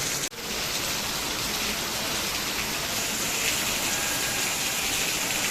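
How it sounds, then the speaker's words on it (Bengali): Light drizzle falls outdoors as a steady, even hiss of rain that holds at a constant level, with one sharp click just at the start. "গাইজ এখনও টিপটিপ বৃষ্টি পড়ছে আজকে কিন্তু প্রচুর বৃষ্টি হলো"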